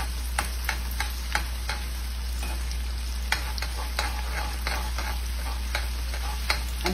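Spices sizzling in hot oil while making chili oil, a close steady crackle punctuated by frequent sharp taps of stirring against the pan, with a constant low hum underneath and no voices.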